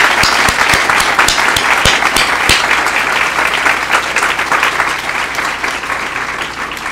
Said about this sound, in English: give them one more round of applause for what a special family